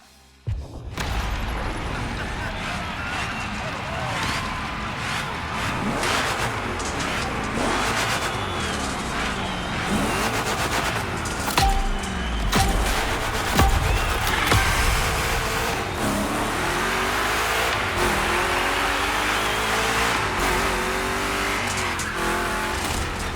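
Two Chevrolet big-block engines race through a gymkhana course in The Crew Motorfest, loud throaty revving that climbs and drops through gear changes, with occasional tire squeal and a brief gap of quiet at the very start.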